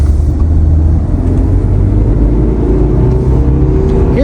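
A Toyota GR86 with Gulf livery pulls out into traffic, its engine droning in a steady, loud low rumble with a faint rising whine from inside the cabin.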